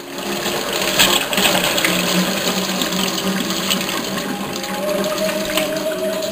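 Water pump running steadily with a continuous whirring, sewing-machine-like mechanical drone and splashing water, loud and close, with a little background voice activity.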